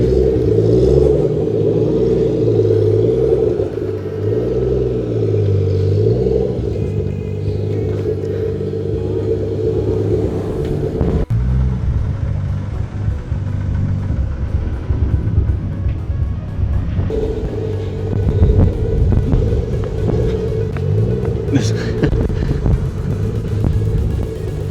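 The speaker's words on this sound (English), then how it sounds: "he's going to reverse through the drive-through" A 600hp right-hand-drive MK4 Toyota Supra reverses through a drive-through, its engine holding a loud, steady low rumble and drone close by, with a brief sharp change midway and a slight rise toward the end.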